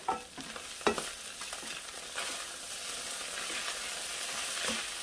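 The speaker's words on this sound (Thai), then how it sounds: "กูจะผัดอันนี้ลงไปนิดหนึ่งนะคะ" Crab stir-fried in a pan for a fried shellfish dish: a close, soft sizzle with a few sharp scrapes and clacks of the spatula near the start, then a steady frying hiss.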